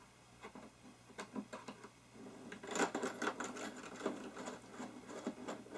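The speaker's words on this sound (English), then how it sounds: "Get my Craftsman screwdriver." A Craftsman screwdriver drives screws into a restored 1918 Union tool box, making faint, irregular clicks and scraping ticks that grow busier and louder partway through.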